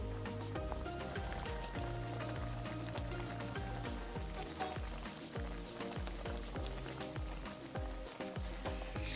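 Ginisang upo, sautéed bottle gourd with fried tofu, simmers in a pan with a steady, dense sizzle. Faint clatter from stirring runs under it, and there is no talking.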